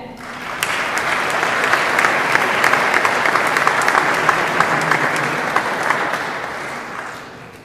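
A graduation ceremony crowd applauds its early childhood leadership graduates with close, loud, crisp clapping that builds quickly, stays full, and fades at the end.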